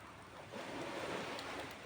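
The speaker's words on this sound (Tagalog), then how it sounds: "Lumukas lang talaga yung hangin." Strong wind gusts roar against the microphone over rushing surf on an island, a loud, steady wash of noise that swells slightly midway.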